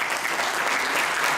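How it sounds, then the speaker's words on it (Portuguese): A church congregation at a Portuguese-language sermon gives a dense, steady round of clapping, loud and continuous from start to end, with no voices rising above it. "uma salva de palmas para ele mais uma vez"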